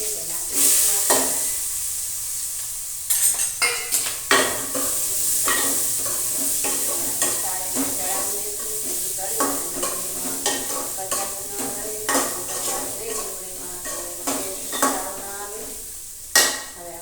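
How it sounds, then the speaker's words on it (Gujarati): Onions tip into hot oil with mustard seeds and cumin, setting off a steady sizzle as a spoon scrapes and stirs the pan in repeated bursts of clatter; nobody talks. "નીચે ડુંગળી નાખીશું અને હવે તમારી ડુંગળી છે તે નાખી દઈશું આપણે."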